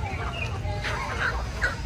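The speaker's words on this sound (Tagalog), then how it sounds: "Diyan yung ating mga manok." Chickens clucking in their coop, some of them sick from the night before, the clucks fairly close and steady over a continuous background hum.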